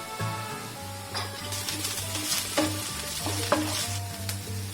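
Ginger garlic paste frying with curry leaves in a pan while making capsicum fried rice, a steady close sizzle with rhythmic stirring and spoon scrapes throughout, no talking.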